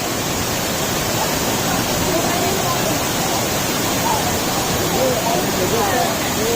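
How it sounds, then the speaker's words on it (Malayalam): Punnayar waterfall at Meenuliyanpara in Idukki gives a loud, unbroken roar of falling water, steady throughout and filling the whole scene. "ഇതാണ് അപ്പോൾ പുന്നയാറ് വെള്ളച്ചാട്ടം."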